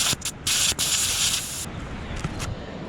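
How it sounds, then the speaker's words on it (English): Air hissing out of bicycle tyres being deflated on a loose sandy trail, in sharp bursts and longer steady hisses with short gaps between them, close by and without speech. "Going to deflate the tyres a bit"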